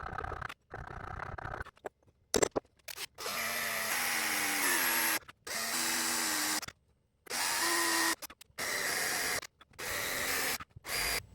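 A drill with a 1/8 inch bit bores brass out of a railroad spike stick, heard as loud, close, whining bursts of drilling that start and stop repeatedly, with short pauses between runs and no speech.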